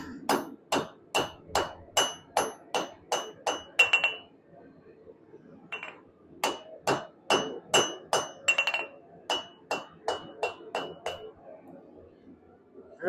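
A forged Viking cross-guard is hammered straight on an anvil: two runs of sharp, ringing metallic blows in a quick steady rhythm, close and loud, with a short pause between bursts and no talking.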